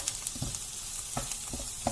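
Onions fry in a pan for a village-style chicken curry, a steady crackling sizzle broken by repeated scraping and tapping stirs of a spatula, close and free of talk.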